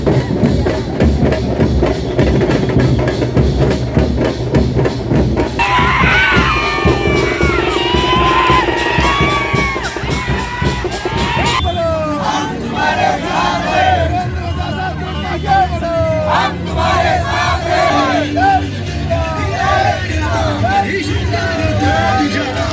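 Supporters celebrate Devendra Kothe's win as a new MLA outside his office at Mechanic Chowk, with a dense crowd cheering and shouting, children's voices and rhythmic clapping or drumming continuing throughout.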